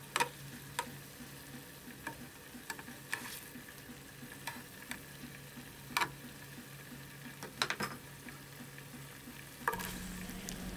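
Onion rings sauté in a frying pan, which already held fried beef liver, with a faint, steady sizzle. Soft, scattered ticks and taps of stirring come through at irregular moments.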